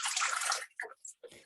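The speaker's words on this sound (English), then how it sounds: "Just going to put some water in the bowl." Water pours into the bowl of a Thermomix TM6 kitchen appliance, a loud splashing rush that stops, followed by a few short gurgles and drips, close up.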